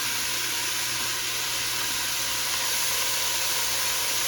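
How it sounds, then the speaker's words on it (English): Onion and garlic sizzle in a pot of creamy tortellini soup being started, a steady, loud, hissing crackle that runs without a break under a low hum. "stir in garlic, onion, and Italian seasoning"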